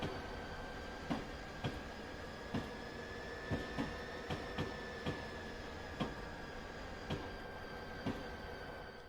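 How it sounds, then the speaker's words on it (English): A New Jersey Transit train in the Train Simulator 2020 game passes steadily, its rolling hum and whining tones punctuated by regular sharp clicks of wheels over rail joints, moderately faint and alone. "Oh, there goes the train."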